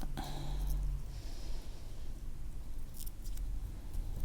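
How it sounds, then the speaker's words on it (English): Scissors snip through tape on a knotted-cord macrame bracelet, a few quick close cuts early on against a steady low background hum. "Now I'm going to trim the tape."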